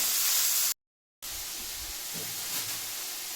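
Tomatoes added to softened onions sizzle in a pan on the stove, a soft, steady frying hiss that cuts out briefly, then resumes at a low, even level.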